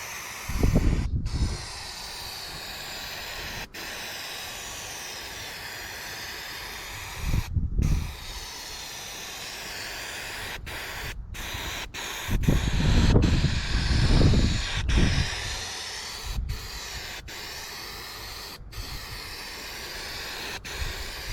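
Adhesive spray applied to a folding garden kneeler in several short, close hissing bursts separated by quiet gaps, with a longer run of spraying in the middle and a few faint clicks.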